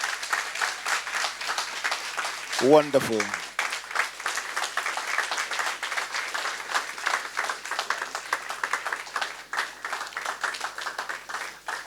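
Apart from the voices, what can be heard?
audience applause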